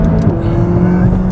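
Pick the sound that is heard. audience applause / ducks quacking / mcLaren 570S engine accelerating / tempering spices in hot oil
mcLaren 570S engine accelerating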